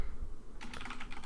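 Clicky keystrokes on a computer keyboard while code is being written, a quiet pause giving way to a quick, irregular run of close, crisp taps.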